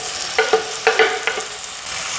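Chopped bathua leaves with coriander powder, red chili powder, amchur and salt frying in a pan, a soft steady sizzle broken by several brief scraping strokes of a spoon, close up and without speech.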